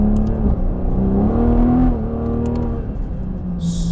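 Big-turbo Toyota Supra running E85 pulls hard from low revs, a loud steady engine drone rising in pitch for a couple of seconds, then easing slightly as it keeps accelerating, heard from inside the car with no talking.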